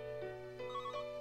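A phone in Tokimeki Memorial Girl's Side 3 plays its ringtone, a short electronic melody of a few clean, bright repeating notes, heard alone without any talk.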